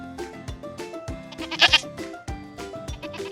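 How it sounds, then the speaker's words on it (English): A goat bleats in a string of repeated baa calls, close and fairly loud, with no talking. "Goats make the sound baa."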